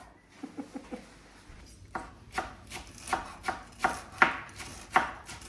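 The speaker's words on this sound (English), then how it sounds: "I love the smell of parsley when you're chopping it" A knife chops fresh parsley on a board in a quick burst of soft taps, then slower, sharper single cuts spaced about half a second apart, close by.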